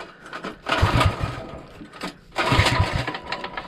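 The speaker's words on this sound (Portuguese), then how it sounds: "Acelera, Badá." Small go-kart engine revving up on a kart track, rising in two loud buzzing surges with a pause between them, close by and with no talk over it.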